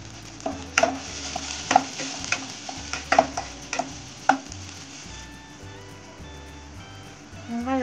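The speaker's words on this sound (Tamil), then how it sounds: "இப்போ வந்து நம்ம பச்சை மிளகாய் போட்டு வதக்கலாம்." Green chilies sautéing with onions in a pan for fish gravy, a quiet sizzle with several sharp spoon scrapes and taps, then a thin hum; a voice speaks briefly underneath.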